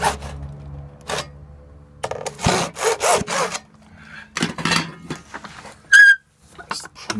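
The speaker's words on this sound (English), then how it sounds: "I'm trying to cut PVC in a..." Hand sawing 90mm PVC pipe with an end cap fitted, short rasping strokes in irregular bursts, close and fairly loud, with pauses between groups of strokes and a brief squeak near the end.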